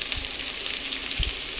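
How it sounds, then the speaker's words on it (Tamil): Onion and dried red chilli sizzle in hot oil after mustard seeds have popped, giving a steady, close crackling hiss with a couple of soft low thumps. "அடுத்து வந்து வெங்காயம் கூடவே காஞ்ச மிளகாவும் போட்டுக்கலாம்."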